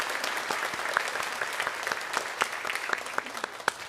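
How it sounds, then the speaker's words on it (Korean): A church congregation applauds together to welcome first-time visitors during a Sunday service, a dense, steady clapping that fills the room for several seconds with no talk over it. "우리 박수로 환영하도록 하겠습니다."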